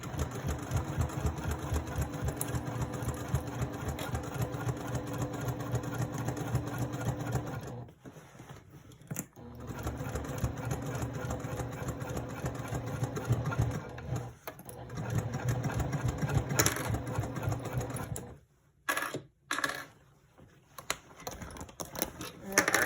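A sewing machine top stitching a handbag runs in long rapid mechanical bursts, close and loud, with brief pauses between runs as the bag is repositioned.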